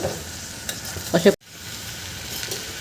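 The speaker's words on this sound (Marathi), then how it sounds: "हे मी भाज्यासोबत छान परतून घेते तांदूळ" Rice and vegetables sauté in a pan for vatana pulao with a soft steady sizzle, broken by a few scraping stirs and a brief clatter before a short pause.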